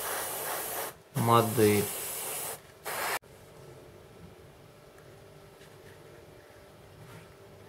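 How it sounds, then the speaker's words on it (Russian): Harder & Steenbeck Ultra airbrush with a 0.2 nozzle spraying paint onto a model, a steady soft hiss running about two seconds after a brief spoken word, then the room falls quiet. "Заодно проверим аэрограф и покрасим"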